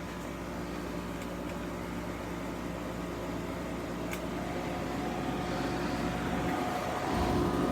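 Steady, even hum of an early 1980s 7,400 BTU Emerson Quiet Kool compact air conditioner running close by, a soft broadband whir with a faint tonal drone that holds level throughout and swells slightly near the end.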